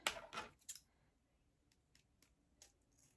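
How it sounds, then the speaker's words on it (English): Scissors snip through ribbon for a Dollar Tree Valentine's Day wreath, with a few sharp, close cuts at the start followed by faint small clicks and handling noises in a quiet room. "we're going to cut the ribbon like this"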